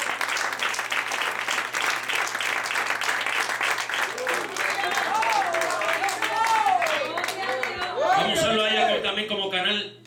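Church congregation applause during a Spanish-language service, dense clapping blended with shouting voices and music, growing louder toward the end before cutting off.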